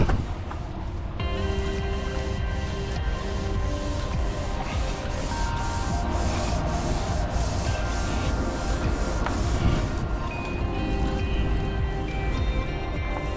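A buffing pad runs on an aluminum tank during polishing with Zephyr Pro 40, giving a steady, dense mechanical whir with rubbing texture that holds at an even, loud level close up from start to finish.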